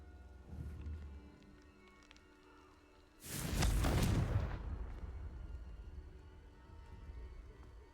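A Confringo fire spell cast in Hogwarts Legacy bursts out as a single loud blast mid-clip, a broad roaring explosion that slowly decays over a low rumbling game ambience.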